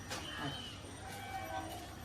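A train rolls past with a steady, moderately loud rumble and faint high rail tones throughout, with no talking.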